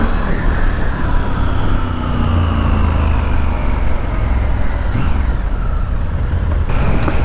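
Triumph Scrambler 1200 motorcycle on a test ride in Chicago, a loud, continuous engine drone mixed with heavy wind rush, close and steady throughout with no talk.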